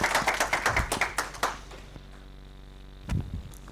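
A small group at an ocean network's annual general meeting claps for Claire: a quick run of distinct, fairly close hand claps that fades out after about a second and a half, then one last stray clap.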